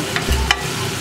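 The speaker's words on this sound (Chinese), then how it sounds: "鲈鱼下锅" Sea bass lowered into a hot pan, giving a short burst of frying sizzle with a couple of brief crackles, close and fairly loud, no voices.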